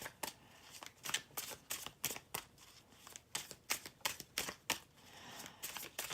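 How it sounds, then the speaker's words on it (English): Tarot cards being riffle-shuffled over and over, a quick series of crisp, papery flutters and snaps repeating steadily, close by and with no talking. "I think that's my signal to stop the ruffle shuffle."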